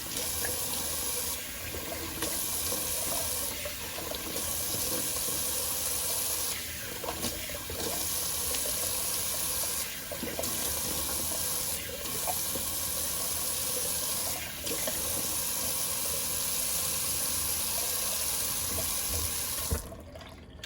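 Steady cold tap water runs continuously for about twenty seconds, a broad splashing hiss into a sink with small shifts in flow, then cuts off near the end, during a shaving rinse.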